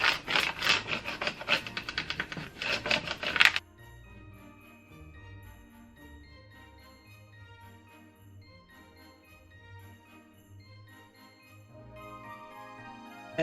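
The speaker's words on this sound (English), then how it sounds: "I use the scraping tool from Cricut. I like the way it fits in my hand. I go ahead and smooth these out." A Cricut scraping tool is rubbed over vinyl on a wood sign, making quick, close scratchy strokes in a rapid back-and-forth rhythm for a few seconds. Soft background music follows.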